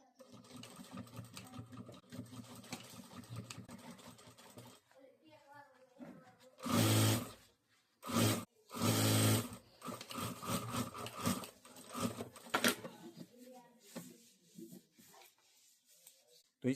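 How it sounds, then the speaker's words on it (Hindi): A sewing machine stitching the side seam of a triangle bag, several loud whirring bursts of rapid stitching separated by pauses, with handling noise and stretches of talking around them. "तो इस तरह से हमें साइड में सिलाई कर देनी है"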